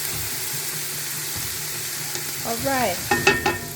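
Vegetables and crushed ginger sautéing in a large soup pot give a constant close sizzle, joined near the end by stirring clatter and a brief spoken phrase.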